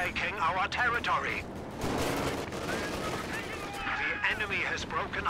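Company of Heroes 2 battle with an IL-2 air attack: dense crackling gunfire and rattling bursts mixed with booming impacts, loud and continuous, with a voice talking over the action.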